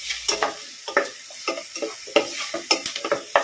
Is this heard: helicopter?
no